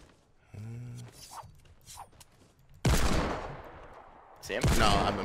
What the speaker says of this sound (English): No, I'm just taking shots.